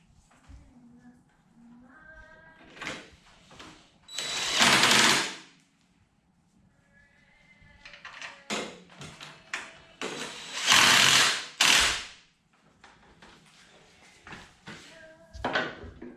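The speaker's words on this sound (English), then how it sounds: "I'm actually going to bolt these on now to get this all taken care of." A power tool drives bolts onto a DIY impeller kit on an Ariens snowblower, with two long, loud whirring bursts and several shorter ones, plus a whining motor and metallic clatter between them.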